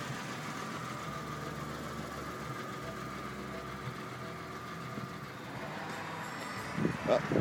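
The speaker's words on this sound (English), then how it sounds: "Oh, just heard the fan kick on." A 1991 Geo Metro convertible's electric cooling fan switches on near the end, adding a rising whir over the steady idle of the small engine, which runs evenly throughout.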